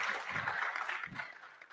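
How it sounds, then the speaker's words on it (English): Audience applause at a college president's public lecture, a dense even patter of clapping hands heard from a moderate distance, with a couple of low thumps, lasting under two seconds. "I think you should celebrate him with another round of applause"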